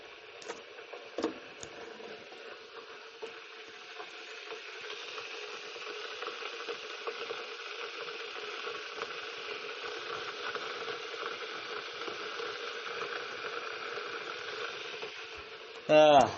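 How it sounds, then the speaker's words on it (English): An electric kettle heats water for tea, a soft steady rushing hiss that slowly builds in strength over several seconds, with a few small clicks near the start and a brief louder burst at the very end. "That kettle going in the background."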